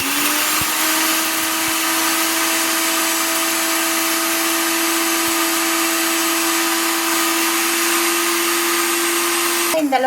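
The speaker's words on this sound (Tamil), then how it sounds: "மிக்சியில் போட்டு நல்லா பொடி பண்ணிக்கலாம்." Electric mixer grinder pulverizing roasted whole spices into powder, a loud steady motor whine with a constant droning pitch running nearly ten seconds, cutting off abruptly at the end.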